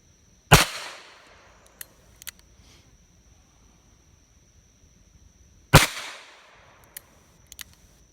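Two sharp, loud shots from a Smith & Wesson 586 .357 Magnum revolver fired single action, about five seconds apart, each a hard crack with a short ringing tail, with faint clicks between them.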